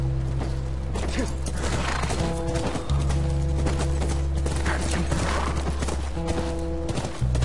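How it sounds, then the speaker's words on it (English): Horse hooves clip-clop steadily in The Last of Us video game, close and distinct over a droning in-game music or ambience bed, with occasional faint neighing. "That's a horse."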